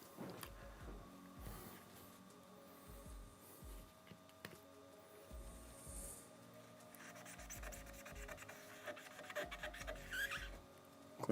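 Scrubbing and rubbing around a CPU socket while building a PC with an Intel 12600K in a Phanteks P360A case, a quiet, steady scratchy wiping with short rasping strokes, busier toward the end, with no talking.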